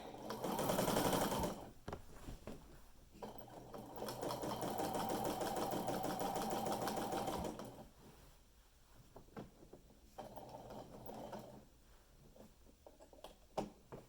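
A sewing machine stitches binding onto a quilt with the needle left down between runs, giving close rapid whirring bursts separated by pauses and quiet handling of fabric.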